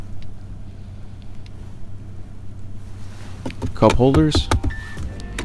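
The power window motor of a Jeep Wrangler JL whirs loudly and steadily, close up inside the cabin. Someone briefly speaks over it near the end.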